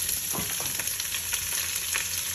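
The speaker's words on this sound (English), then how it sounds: "we're gonna cool down the pan with onion, a lot of onions" Plenty of onions frying in a pan for lamb rogan josh, a continuous close sizzle with a few soft stirring bumps.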